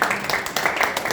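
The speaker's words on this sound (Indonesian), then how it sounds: "Tepuk tangan dulu biar semangat lah." An audience at a church worship workshop in Makassar claps briefly, a short burst of scattered applause lasting about a second, with a voice in the background.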